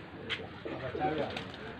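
Pigeons kept in a rooftop loft in Faisalabad give soft, low cooing over about two seconds, close by and moderately quiet, with someone talking over them.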